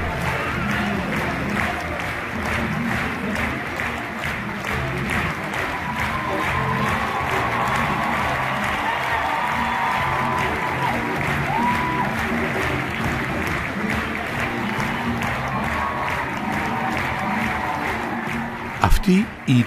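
Theatre audience at Covent Garden applauding after a performance, a sustained wash of clapping and crowd noise with a narrator's voice over it, ending in a brief louder burst.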